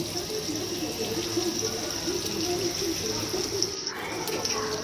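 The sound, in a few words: water poured into pot for fish curry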